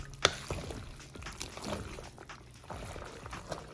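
Ingredients for Haitian chicken sausage and meatball macaroni are poured into a pot with a soft splash and sloshing, followed by quiet stirring and scraping sounds, fairly faint and close.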